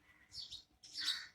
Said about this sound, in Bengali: পাখির ডাকগুলো শুধু শোনো